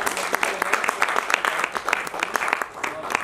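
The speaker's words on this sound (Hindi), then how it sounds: "एक बार जोरदार ताली।" Audience applause at a national drama festival, a dense patter of many hands clapping steadily for a few seconds, fairly loud and close.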